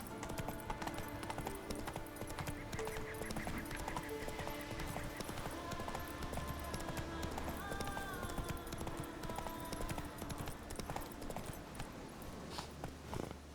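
Hooves of Roach, Geralt's horse in The Witcher 3: Wild Hunt, clip-clop steadily throughout, riding under a dense game music and ambience bed with no speech.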